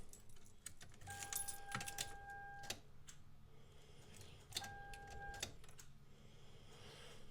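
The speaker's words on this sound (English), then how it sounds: "I can definitely hear a relay clicking" A Japanese import car's relay clicks faintly as the key is turned, with a few sharp ticks and two short, steady electrical whines, each about a second long, in an otherwise quiet space.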